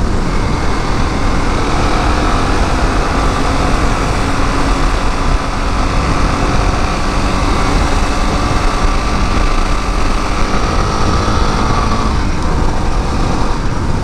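Suzuki DR650 single-cylinder motorcycle cruising at 60 mph in fifth gear, a loud continuous engine drone mixed with heavy wind rush, steady throughout.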